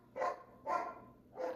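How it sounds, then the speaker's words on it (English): Dogs bark outdoors somewhere in Mexico. Three evenly spaced, muffled barks come from a distance, faint against a quiet background. "There's dogs"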